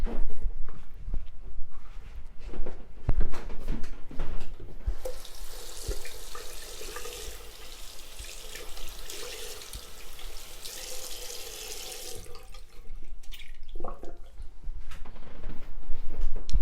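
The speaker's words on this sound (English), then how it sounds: "I'm actually going to have to rinse the duster straight away" A running tap rinses a dusty cleaning duster at a sink, a steady hiss of flowing water with splashing and handling clatter before and after the stream.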